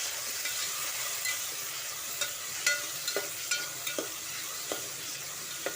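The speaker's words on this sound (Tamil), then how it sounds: "நல்லா கிண்டி விட்டு கொஞ்சம் உப்பு போட்டு கிண்டி விட்டு மூடி விடுங்க." Onions and tomatoes sizzle steadily in a pan for veg pulao while a spoon scrapes and stirs in scattered strokes, close up with no voices.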